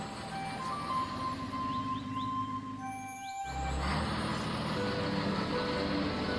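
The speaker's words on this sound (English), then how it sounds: "Wow, how easy it was to free the green car with the powerful crane" A cartoon crane truck freeing a stuck green car, with a rumbling truck engine, repeated electronic reversing beeps and tonal effects, then a louder engine surge near the end, close and without speech.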